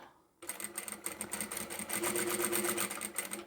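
A sewing machine stitches a lined drawstring pouch, running as a steady, close mechanical whirr with rapid rhythmic needle ticks. It starts abruptly after a brief quiet moment and continues without talk.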